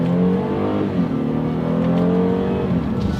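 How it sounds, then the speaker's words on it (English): A 2017 Genesis G80 engine revs steadily and loudly, the pitch stepping down and climbing again as the paddle shifters change gears through the automatic transmission, with no talking. "let's try out the paddle shifters here"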